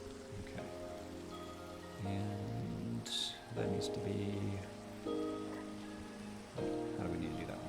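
Rain falls steadily in Minecraft, a soft continuous patter of drops under intermittent nearby talk and game sounds.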